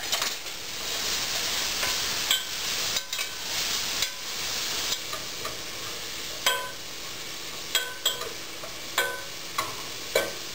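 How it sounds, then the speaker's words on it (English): Vegetables and cream cheese stirred in a pot for creamy Swiss soup, a soft continuous sizzle under a series of regular spoon scrapes and light clinks against the pot. "So, we're going to give this a stir."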